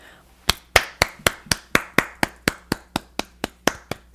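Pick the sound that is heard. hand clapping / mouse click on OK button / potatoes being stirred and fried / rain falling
hand clapping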